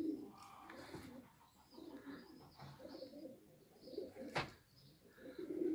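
Homing pigeons sitting on a roof coo softly and repeatedly, with faint, distant murmuring calls that rise and fall in low, gentle phrases over quiet surroundings.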